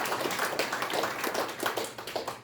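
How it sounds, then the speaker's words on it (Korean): An audience at the opening ceremony of a memorial VR hall applauds to welcome guests, producing continuous, moderately distant clapping that swells and ebbs across the moment. "박수로서 환영하시는"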